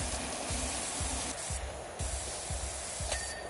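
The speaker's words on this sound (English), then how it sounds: "I'm gonna do the jump spray right quick" Pressure washer jump spray in the video game Power Wash Simulator 2, a steady broadband hiss of water spray running throughout with a rhythmic low thumping pulse about twice per second underneath.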